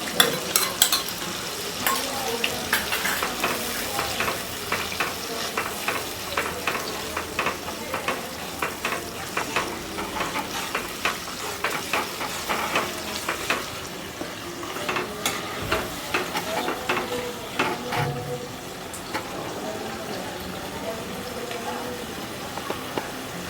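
Fish frying in plenty of oil with a mustard paste, giving a steady close crackling sizzle with scattered pops and occasional utensil stirring, continuous throughout with no talk.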